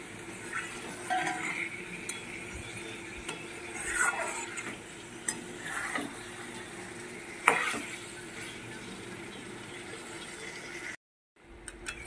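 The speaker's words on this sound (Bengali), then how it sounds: "এটা দিয়েও আমি আরেকটু কষাবো" Utensil scraping and stirring in a pan as fried papaya and potato are sautéed, with intermittent clinks and a faint low sizzle, fairly close, no voices.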